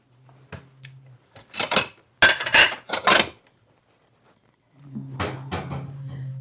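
Kitchen cupboard and dishware clatter as a bowl is taken out: a series of sharp knocks and clinks, followed by a softer humming rattle.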